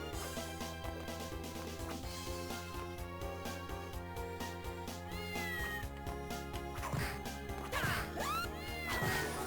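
A cat meows in the video game Castlevania: Order of Ecclesia, heard over steady game music, with a few sharp meows rising near the end.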